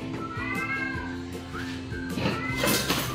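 A cat meows repeatedly, several drawn-out, rising and falling calls close by, with some background clatter and a brief voice in the scene.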